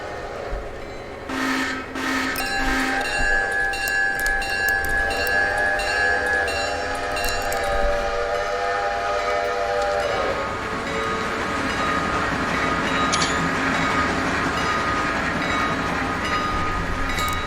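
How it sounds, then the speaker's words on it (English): A train rolls past in the railroad game Railroader, sounding its horn in long sustained tones while wheels and cars rumble steadily underneath, the horn fading as the train continues by, with no one talking. "got a train coming in."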